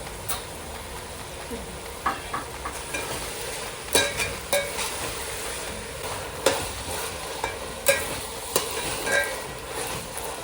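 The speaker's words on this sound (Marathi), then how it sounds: "आता त्यात साखर चवीनुसार थोडीशी टाकून परतून घेऊया।" Homemade fried rice with tomato ketchup and sugar stir-fried in a pan, an even sizzle punctuated by a dozen sharp spatula clicks and scrapes in loose rhythm, close up.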